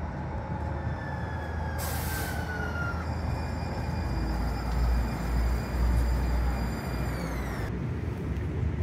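An electric light-rail train in Salt Lake City rolling in at the end of the line, a deep rumbling roar with rising whines and a brief hiss as it approaches and slows.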